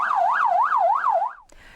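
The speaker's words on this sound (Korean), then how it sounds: "흥겨운 음악 대신 비명과 사이렌 소리가 울려 퍼지며" An emergency vehicle siren on a Seoul Itaewon street during a deadly Halloween festival crowd crush wails loud and close in a steady rising-and-falling cycle, about five sweeps, then cuts off abruptly.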